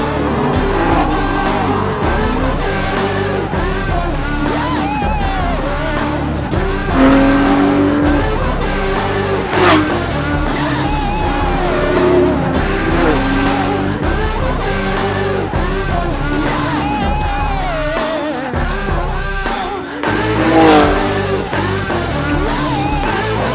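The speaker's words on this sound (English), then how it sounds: "216 mph Ford GT" A Ford GT sports car runs hard on a damp track in Norway, its loud engine droning close and continuous with rising and falling revs and occasional tyre squeal.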